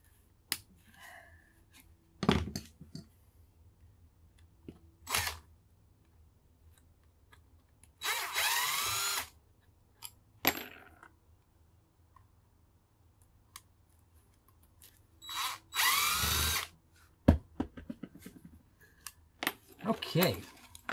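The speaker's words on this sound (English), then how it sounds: "Yep, so we'll just break those free with the old manual screwdriver." Manual screwdriver breaking screws free on old power tools being scrapped for copper: sharp metallic clicks and scrapes come in short bursts, with a few louder grinding twists and brief rattles in between, close and otherwise quiet.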